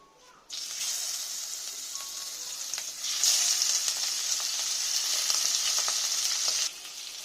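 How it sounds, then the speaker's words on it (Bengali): Pomfret fish hit hot oil in a frying pan, a loud bright sizzle that starts abruptly, swells louder midway with crackling pops, then drops back. "এবার এই গরম তেলে আমি মাছগুলো ভেজে নেব"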